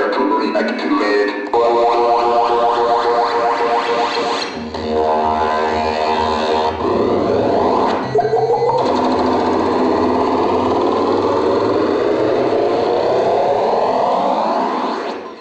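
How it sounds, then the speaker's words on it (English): Spacey electronic sound effects from a DJ scratch record play loud and continuous, sweeping whirs, buzzing drones and pulsing tones shifting every few seconds, with no voices. "So those are all space sounds."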